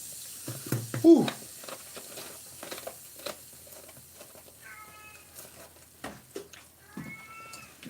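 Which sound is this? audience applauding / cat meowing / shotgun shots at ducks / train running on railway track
cat meowing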